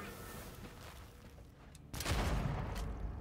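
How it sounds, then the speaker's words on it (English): Mortar fire in the video game Dead Island 2: a low rumble gives way to a heavy booming explosion midway, with a dense roar and debris continuing loudly afterward. "Danger close, mortars."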